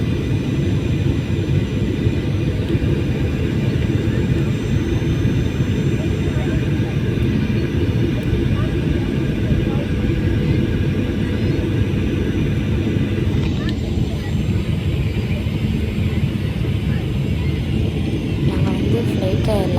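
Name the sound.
airplane landing in Dubai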